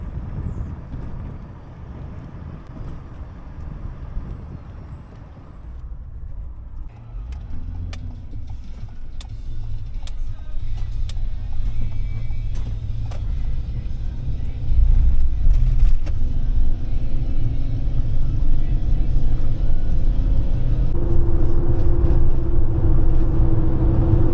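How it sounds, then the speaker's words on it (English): An employee bus bound for Area 51 passes on a desert road, its loud, close diesel rumble building steadily with engine drone and rattling over a long continuous stretch, no talking. "And this is the bus that takes employees into Area 51."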